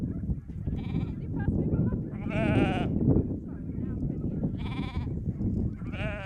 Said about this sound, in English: We're weaning our lambs